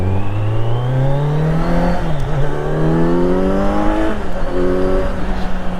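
A Kawasaki Z900 motorcycle accelerates hard from the rider's seat, engine note climbing steeply through a gear, dipping at a shift, then rising again, loud and continuous with wind rush.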